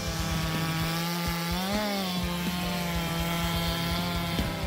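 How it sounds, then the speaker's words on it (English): A Nisula 325H harvester head with an 840 chainsaw disc fells trees in a forest, its steady, loud motor drone humming without a break and sagging briefly in pitch as it bites into a trunk. "On adventures in the woods with the Nisula 325H head combined with the 840 chainsaw disc, demonstrating incredible cutting power, easily felling giant trees."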